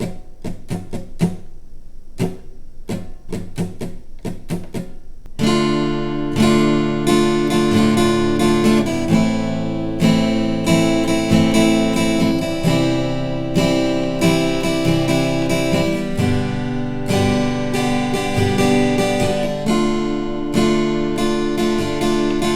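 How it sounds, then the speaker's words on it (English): Guitar strumming the pattern for a pop song: a few sparse opening strums, then steady rhythmic down-and-up chord strokes played loud and close for about twenty seconds with no talking. "The strumming pattern that we're going to be using for this version of the song sounds like this"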